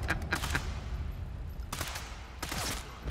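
Gunshots in Sniper Elite 5: a quick burst of sharp cracks at the start, then two more bursts of rapid fire over a constant rumbling game background, moderately loud.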